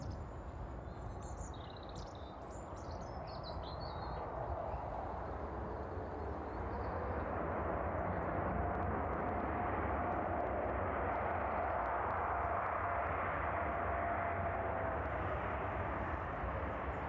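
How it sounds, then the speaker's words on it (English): A TUI Boeing 787 touches down on runway 27 at East Midlands Airport, a broad, steady jet roar that swells and holds loud and close for most of the stretch, with faint birdsong at the start and no talk. "There we go, touching down onto runway 27"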